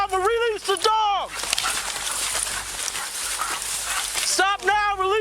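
Police canine during a suspect chase, with high whimpering yelps at the start and end around a stretch of loud, noisy barking and commotion, with people shouting nearby.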